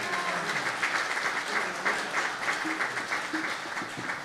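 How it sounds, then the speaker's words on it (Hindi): Church congregation at a worship night applauding steadily, a dense wash of clapping that holds evenly throughout at moderate level. "जोरदार तालियां जी,"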